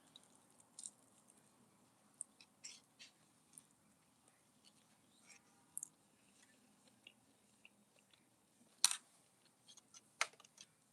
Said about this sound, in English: Can y'all hear me chewing?